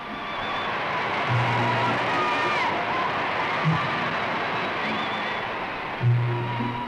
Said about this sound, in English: Chittagong and more crowds to cheer Her Majesty on her journey.